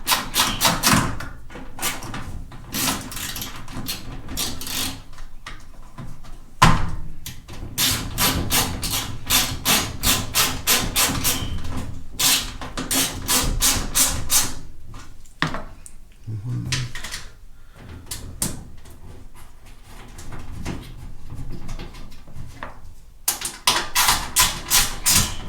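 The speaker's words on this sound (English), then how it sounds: "let's put the last 3 bolts back in place, again with a 1/4 inch socket" Rapid clicking of a ratchet with a 1/4 inch socket tightening bolts on a Whirlpool front load washer, close, in repeated bursts of fast ticks separated by short pauses and occasional knocks.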